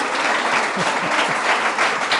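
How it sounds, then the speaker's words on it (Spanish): Festival literature audience applauding steadily, a dense even wash of clapping with no break and no talk over it. "Yo les voy a pedir que le den un aplauso a su marchamalo, por favor"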